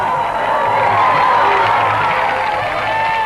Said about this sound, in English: She is cheered over and over again.